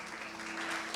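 A church congregation claps together in a broad, steady wash of applause that swells slightly toward the end, with no one speaking over it.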